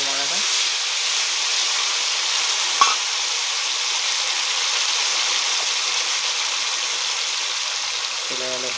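Tomato paste with spices, including cinnamon and cloves, frying in a hot pan: a steady, loud sizzle and hiss that holds throughout, with a single stir or clink partway through and brief voice fragments at the start and end.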